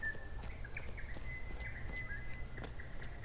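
Faint birds chirp and tweet intermittently in the stealth video game Death to Spies, over a steady low background hum, with a thin high tone running underneath.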